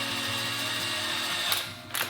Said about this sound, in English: It also says to pre-drill